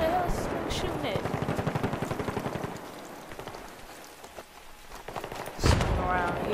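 Rapid gunfire in the Battlefield 3 video game on the Grand Bazaar map, a fast, steady rattle of shots over talk that thins out midway before a sharp burst near the end.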